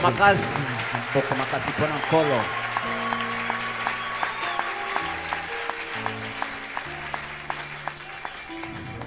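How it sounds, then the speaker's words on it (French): Congregation clapping in a church service, steady loud applause and cheering with voices and music-like tones underneath throughout. "Acclamez très très fort pour le Seigneur."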